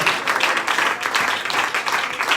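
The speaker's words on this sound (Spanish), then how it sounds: "Denle un aplauso a Cristo." Church congregation applauding during a Spanish-language evangelical service, a dense, steady wash of clapping sustained throughout at fairly close range with no clear talk.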